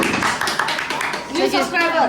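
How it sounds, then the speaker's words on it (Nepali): Several people clap their hands in quick, loose bursts mixed under steady, lively chatter and voices at a family gathering. "ताली बजाऊ न ताली बजाऊ छिटो"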